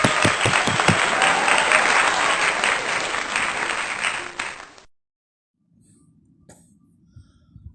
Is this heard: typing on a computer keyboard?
no